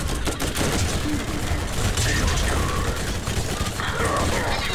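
Heavy, continuous gunfire and clattering battle noise against robot soldiers in the shooter game Borderlands, loud and busy throughout with mechanical clanks mixed in.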